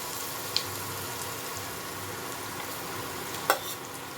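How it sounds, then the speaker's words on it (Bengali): Boiled banana stem frying with spices in a pan, a quiet steady sizzle with two brief clinks or stirring knocks, close by. "মশলা ভাজা হয়ে গেছে, এর মধ্যে আমি এখন সেদ্ধ করে রাখা থোড়টা দিয়ে দেবো।"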